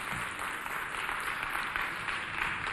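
Audience applause in a television studio for a youth show, a steady, even wash of many hands clapping throughout, moderately loud with no clear gaps.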